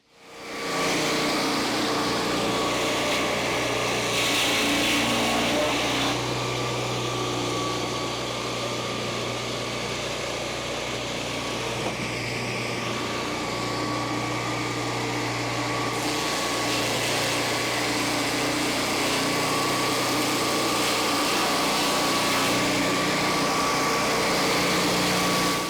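A Turbosawmill engine roars loud and steady while the saw cuts a board from a small log, with a constant high mechanical whine and no pauses.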